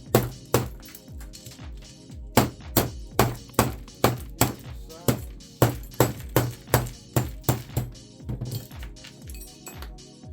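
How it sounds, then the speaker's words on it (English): Repeated sharp metallic strikes of a hatchet breaking apart a mixer for scrap at a steady, deliberate pace, each hit ringing briefly, close up and loud with no speech. "Do we want the small hammer? Do we want the big hammer? Or do we want the hatchet?"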